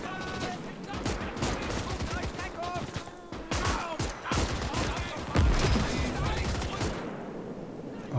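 Gunfire crackles in the Gates of Hell strategy game, with dense overlapping rifle and machine-gun bursts and heavier blasts, loud and continuous throughout.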